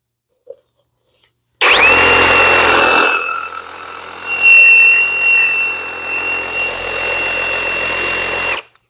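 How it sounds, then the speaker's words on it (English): A small-bladed sawzall reciprocating saw cuts through a fern root ball during repotting, starting abruptly and running loud and close for about seven seconds with a steady motor whine and buzzing strokes before stopping. "Because my blade, the blade that I have on my sawzall is very small."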